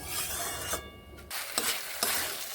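A cauliflower curry is stirred in a pan, giving short scraping and sizzling strokes with a few distinct clacks of the utensil against the pan, close and moderately loud, with no talking.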